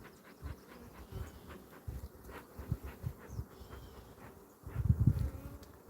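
Honeybees buzz around a hive after being smoked, a close, low, wavering drone with swelling passes as individual bees fly near, growing louder toward the end.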